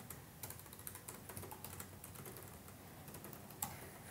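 Quiet rapid keystrokes on a computer keyboard, an irregular stream of soft clicks with one sharper tap near the end, heard alone without voices.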